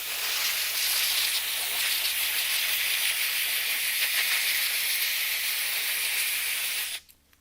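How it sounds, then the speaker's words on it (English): An air nozzle blows a loud, continuous hiss of compressed air over aluminum shavings to clear off acetone, steady for about seven seconds before cutting off abruptly. "let me put my little air nozzle on. Just blow off any extra acetone that might be on this"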